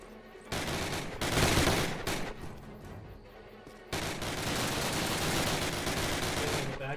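Video game gunfire in rapid bursts, dense crackling volleys starting and stopping in loud clusters with a near-continuous barrage in the second half, heavy and close.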